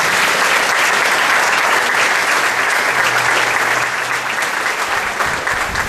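A church congregation claps steadily and loudly throughout a morning worship service, a dense, continuous wash of hands with no break.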